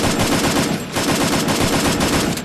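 Rapid bursts of automatic gunfire from a Free Fire ranked squad match, loud and continuous with a brief pause near the middle, sounding alone without talk.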